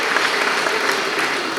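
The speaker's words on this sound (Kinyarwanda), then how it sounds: "Abakuru barahangaha nibampera abana amashyi n'impundu" A church congregation at a children's First Communion bursts into brief, steady, loud applause, a dense wash of clapping from a crowd.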